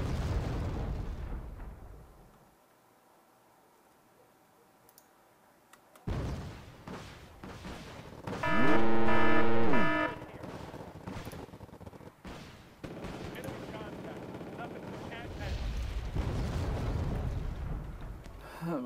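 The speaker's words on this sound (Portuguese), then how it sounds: "Tô recebendo tiro de artilharia direto." Artillery fire in the Wargame Red Dragon strategy game comes as loud, booming blasts and rumbling impacts, with a quiet lull early on and then repeated heavy bursts.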